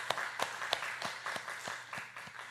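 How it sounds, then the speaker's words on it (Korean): Congregation applause at a church service, heard as a slow, evenly spaced series of distinct claps, about nine beats, moderately faint and alone without talk. "다시 한 번만 크게 박수 쳐주세요."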